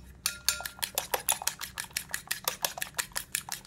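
Crepioca batter of tapioca, egg and salt being beaten briskly in a bowl, with a fast, steady rhythm of sharp utensil clinks against the side, close and clear with no talking.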